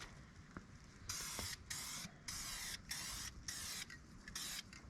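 Spray paint hisses from an aerosol can onto brake calipers in about six short, even bursts with brief gaps between them, close and fairly quiet.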